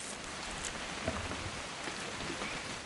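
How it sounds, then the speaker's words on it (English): Steady rain falling in the video game What Remains of Edith Finch, a soft continuous hiss of drops on surfaces, even and low throughout. "It's gonna rain the whole weekend, isn't it?"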